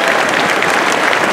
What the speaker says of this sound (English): Let's give a round of applause to the staff of the City of Vancouver.